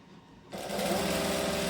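A sewing machine stitching a shirt seam starts after a quiet moment, then runs in a steady fast whir, close and clear with no talking.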